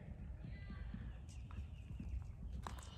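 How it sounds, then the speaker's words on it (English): Hooves of horses running in a field near a pond, faint clip-clopping beats at a distance under low background noise, with a voice speaking. "All of the horses and cows are like running."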